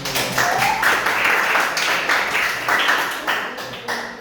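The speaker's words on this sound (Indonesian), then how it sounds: "kalau tidak kita berikan dulu tepuk tangan." A room full of people applauding, steady loud clapping that swells and fades over a few seconds.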